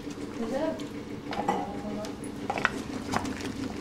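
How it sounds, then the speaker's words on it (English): A pot of chutney being stirred on the stove, with soft scraping and a few light clinks of a utensil against the pot, close up under a faint background hum. "It's time to get it out and have a quick stir of the pot."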